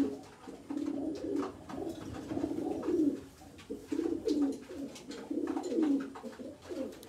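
A pigeon coos close by in a series of soft, low, rolling calls, repeated in a steady rhythm for several seconds against quiet surroundings.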